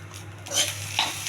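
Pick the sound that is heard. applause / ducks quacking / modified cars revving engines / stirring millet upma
stirring millet upma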